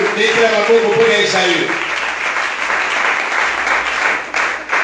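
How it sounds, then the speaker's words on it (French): Church congregation applauding during a French sermon, a steady broadband wash of clapping that holds for about five seconds, with the preacher's voice at the start fading under it. "Acclame pour Esaü"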